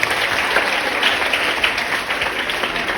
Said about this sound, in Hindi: बेटा एक बार जोरदार तालियों से स्वागत मैम का भी